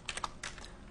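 Quick keystrokes on a computer keyboard, a short burst of several close, fairly quiet clicks in an uneven rhythm with no voices.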